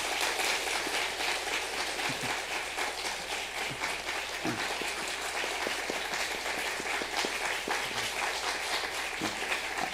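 A church congregation at a Sunday service claps steadily as a farewell wreath is presented to the pastor, the sustained applause filling the room at moderate loudness throughout, with no talk over it.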